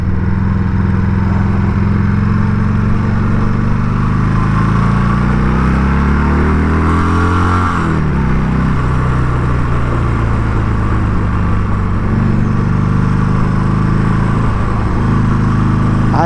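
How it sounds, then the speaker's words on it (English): A Harley-Davidson Sportster 883 motorcycle engine drones steadily and loudly up close, its pitch rising and falling as the rider shifts and accelerates. "I have no idea how guys like Shade Tree Surgeon ride these small motorcycles."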